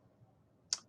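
A single sharp computer mouse click, close and crisp, with a second click just starting at the very end, over faint quiet room noise.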